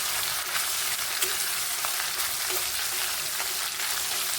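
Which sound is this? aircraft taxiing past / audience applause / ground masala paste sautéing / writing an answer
ground masala paste sautéing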